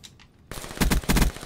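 Rapid automatic gunfire in a Call of Duty game, two tight bursts of loud shots close together after a quieter opening.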